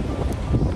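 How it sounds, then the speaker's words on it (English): Strong gusting wind outdoors on a trip to Sedona, a loud low roar and rumble buffeting the microphone, brief and continuous with no voices. "It's super windy"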